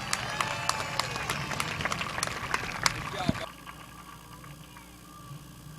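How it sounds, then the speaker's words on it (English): A crowd at Midvale Speedway applauds race winner Kevin McClintock, with scattered sharp claps and cheering for about three seconds before the clapping fades into a quieter hum of voices and talk. "Give a round of applause for your winner, Kevin McClintock."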